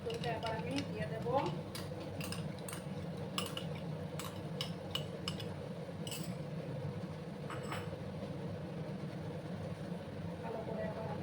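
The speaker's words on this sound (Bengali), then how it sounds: "ভালো করে এবার আমি মিক্স করলাম" Spoon stirring whisked sour yogurt into oil in a pan over low gas flame, soft scraping with occasional light metallic clinks against the pan, faint and steady under a low background hum.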